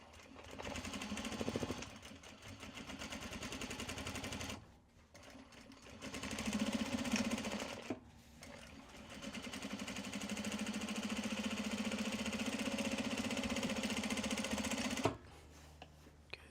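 A sewing machine stitches seams on an upcycled obi tote, running in steady whirring bursts with short pauses between passes, close and fairly quiet.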